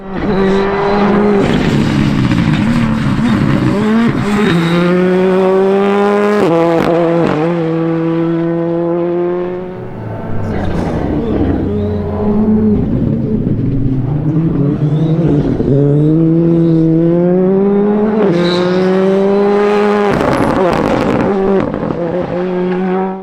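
Rally cars at speed on a winter rally stage in Northern Ireland, engines revving hard and rising through the gears, loud and close, with repeated throttle blips and one car following another, no talk.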